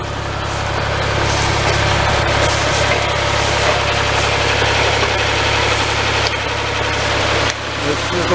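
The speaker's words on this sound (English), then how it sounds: "This little bulldozer hasn't worked as hard as this in many years." A small bulldozer's engine runs steadily and loudly nearby, a constant low drone with a faint knocking vibration, working hard while root pruning among trees.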